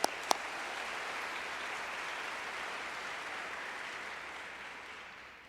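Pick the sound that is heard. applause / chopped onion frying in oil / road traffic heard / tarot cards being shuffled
applause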